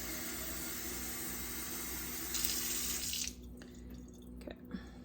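Water pouring steadily onto garden soil to soak it, a continuous close running-water splash that swells briefly, then drops to a quieter trickle with a few small drips.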